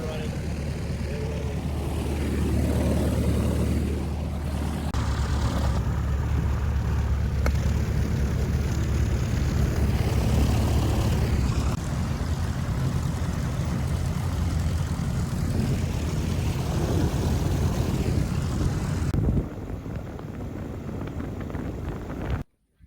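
Canard propeller aircraft engines running at a fly-in at Breckenridge Airport, a loud steady propeller drone with heavy wind buffeting the microphone, continuing for about twenty seconds before dropping off sharply at the end.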